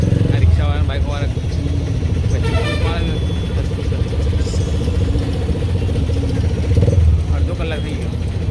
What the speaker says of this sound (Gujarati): આપણે ત્યાં છે ટ્રાફિક. રિક્ષાવાળા બાઇકવાળા